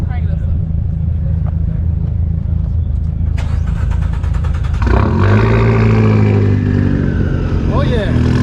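A Fiat 500 Abarth with an aftermarket exhaust at a car show idles under loud talk, then cranks and fires up halfway through. It revs hard with a loud raspy roar that sounds close, and voices continue over it.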